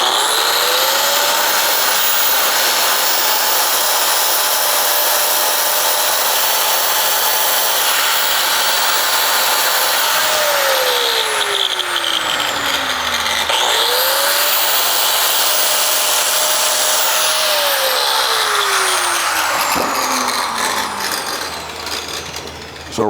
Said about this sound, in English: So I'm just gonna take my grinder